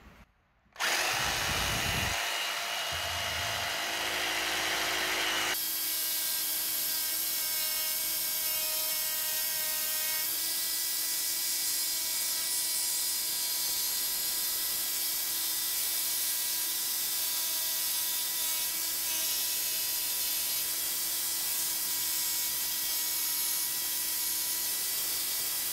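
A handheld power tool runs at full speed while clamped in a vise and used as a makeshift table saw, giving a loud, steady high-pitched whine after a brief start-up, held constant for over twenty seconds without talk.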